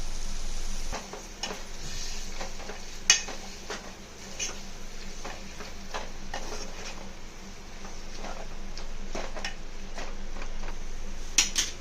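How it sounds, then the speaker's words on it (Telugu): Mutton pieces mixture for a home-style mutton curry is stirred into a pot, with scattered clinks and scrapes of a spoon against the metal over a steady low kitchen background, a few sharper knocks standing out. "మటన్ మిశ్రమాన్ని ఇందులో వేసి కలుపుకుంటున్నాను"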